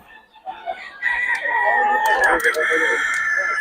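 Roosters crow and chickens cluck close by at a poultry spot in Bocaue, with someone talking over the birds.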